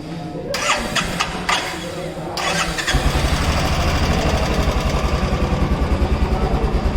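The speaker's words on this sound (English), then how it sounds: "let's crank it up and hear the engine sound" A Royal Enfield Classic 350 BS6 motorcycle cranks with a few starter bursts, catches, and settles into a loud, steady thumping idle close by.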